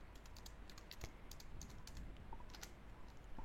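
Rapid typing on a computer keyboard while entering an equation into a Word document, a steady run of close, crisp key clicks alone.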